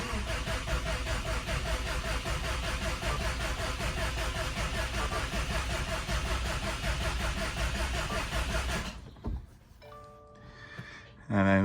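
An IAG 700 long block engine fires up for its first start, running loud, close and steady at held revs for about nine seconds before cutting off abruptly, leaving faint tonal mechanical sounds.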